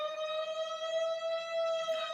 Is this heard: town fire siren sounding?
yes